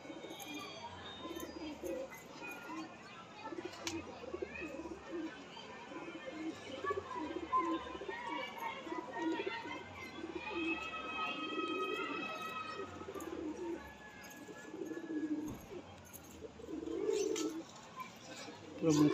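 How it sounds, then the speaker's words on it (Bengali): A Mukhi pigeon coos softly and repeatedly inside a loft in Bagnan, with faint chirps from other birds over a low, steady background murmur. "পুরো মুক্সি পায়রা এটা।"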